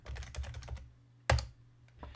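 Keys clatter on a computer keyboard while renaming a track in Pro Tools, a quick run of close taps followed by a single sharper keystroke and a brief final tap.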